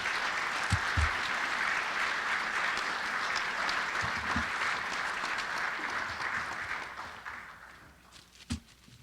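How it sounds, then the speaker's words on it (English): Sustained applause from an audience at a high school athletic hall of fame awards ceremony, steady and fairly full, fading slightly toward the end with a few scattered thumps. "please give a round of applause for Stacy Orcock, class of 1980."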